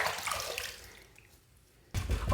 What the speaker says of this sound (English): I'm going to go ahead and just rinse my head a little bit